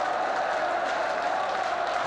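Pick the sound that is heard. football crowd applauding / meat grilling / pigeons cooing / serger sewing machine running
football crowd applauding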